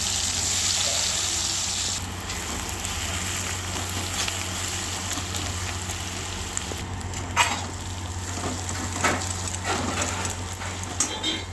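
Sliced onions dropped into hot oil already seasoned with bay leaf, whole garam masala and sugar, a loud continuous hiss of frying that stays steady, with a few light clatters toward the end.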